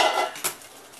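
A metal cooking pot is shifted aside on a kitchen stove, giving a short scrape followed by a single light clank, close and fairly quiet.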